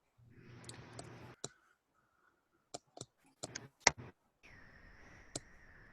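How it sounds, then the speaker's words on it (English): Sharp, isolated clicks of keyboard typing come in uneven bursts during an online meeting, quiet against faint background hiss and a low steady hum. "whoever's typing"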